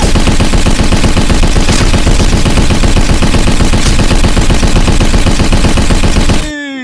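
A toy gun in the Jurassic World Evolution video game fires a loud, rapid, unbroken burst of machine-gun-like shots for several seconds, then cuts off abruptly at the end.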